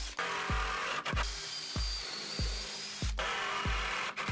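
A drill with a countersink bit drives screws into plywood sofa panels, whirring steadily with a regular series of thumps as each screw seats, close and alone.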